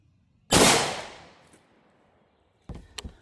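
A 5.7x28 pistol shot into ballistic gel cracks sharply and rings out, then after a short pause a .22 WMR rifle shot fires, quieter and followed by a brief clatter, both heard outdoors.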